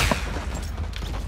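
Fortnite gunfire crackles as a dense, continuous volley of shots with one sharper crack near the start, the whole burst staying loud and steady throughout.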